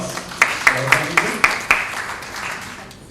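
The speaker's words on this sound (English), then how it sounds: "Please give him a round of applause" An audience at a panel discussion claps for a panelist, with a handful of sharp individual claps rising into brief, light applause that fades, mixed with a speaking voice.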